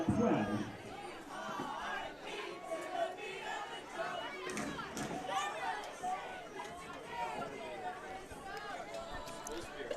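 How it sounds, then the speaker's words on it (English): Spectators at a John Bapst at Foxcroft Class D quarterfinal high school football game cheer and clamor at night, a rolling, surging crowd roar heard beneath a commentator's ongoing talk. "This crowd is still going hard tonight"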